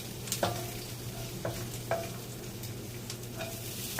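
Garlic and chili fry in a pan for an adobo tofu and eggplant dish, making a quiet steady sizzle with a few light scrapes of the spatula and no voices.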